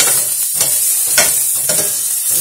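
Chopped onion sautéing in a pan gives a steady, close sizzle with bright hissing, broken by a few soft stirring scrapes.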